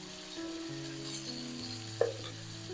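Tomato sautéing with onion and turmeric in oil for sambar rice, a soft continuous sizzle with a low steady hum and one sharp utensil tap near the end, quiet and close, no voices.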